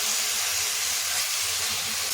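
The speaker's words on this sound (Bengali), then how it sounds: "এখন লঙ্কাটাকে ভাজা ভাজা করে নিতে হবে জল যেন একটুও না থাকে" Green chillies frying in oil for chilli sauce, a loud continuous hiss and sizzle with no break, close to the pan.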